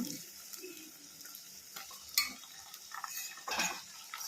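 Ennegayi brinjal, stuffed eggplant, cooking in a pan, with a soft sizzle under intermittent scraping and clinks of a spoon stirring against the pan, close and fairly quiet.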